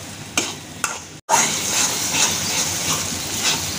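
Sidol dried fish bharta frying over low heat while being stirred, a continuous close sizzle with repeated scraping strokes and a brief break partway through.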